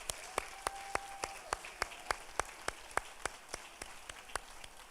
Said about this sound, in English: a round of applause for College and Career Advantage